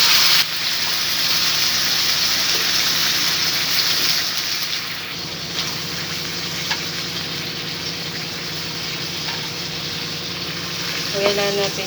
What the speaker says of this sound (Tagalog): Lagyan natin ng sabaw.